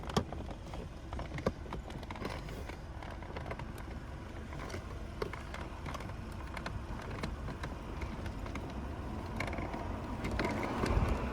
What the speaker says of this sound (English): You pry them up and slide the tray out and pull it out.